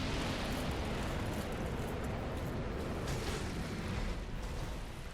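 Black Dragon Kalameet breathing fire in Dark Souls Remastered, a continuous loud roaring rush of flame that holds steady for several seconds with no speech.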